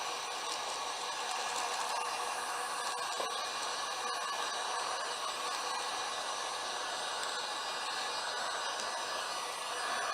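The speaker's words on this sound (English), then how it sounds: "Use my Genesis heat gun that I got from Harbor Freight. And I'm just going to shrink it down." A Genesis heat gun from Harbor Freight blows steadily while shrinking wrap, a constant close airy whoosh that holds at an even level for the whole stretch with no talking.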